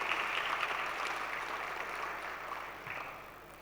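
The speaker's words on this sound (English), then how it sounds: "Please, a round of applause for Mrs. Gombe." Applause from a conference audience, a steady wash of many hands clapping at moderate distance, fairly faint, holding evenly and slowly tapering off.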